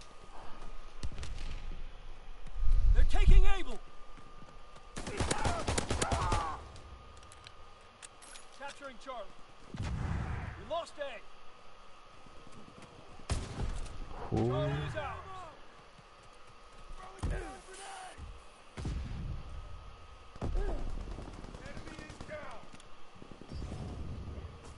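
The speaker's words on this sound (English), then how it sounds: "First time ever using a sniper." Sniper rifle shots in a video game crack out as a few sharp bursts between stretches of talk, with the player's voice running over much of the action.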